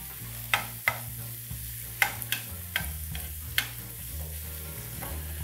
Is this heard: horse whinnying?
no